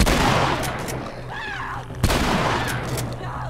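Gunfire in The Last of Us, a short burst of loud close shots near the start and a sharp blast around the two-second mark, with a brief voice murmur in between.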